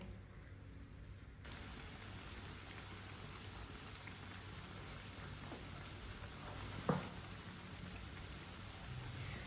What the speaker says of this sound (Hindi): ऑयल हमारा अच्छी तरह गर्म हो चुका है। इसी तरह पकौड़े डालते जाएंगे हाथ के साथ।